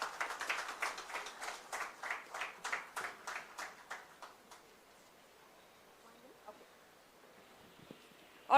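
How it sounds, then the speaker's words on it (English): An audience applauds to welcome a chairman at the opening of a new Apollo Clinic in Velachery, Chennai, with rhythmic clapping that starts strong, fades steadily over about four seconds, then gives way to quiet room tone. "Can we have a big round of applause,"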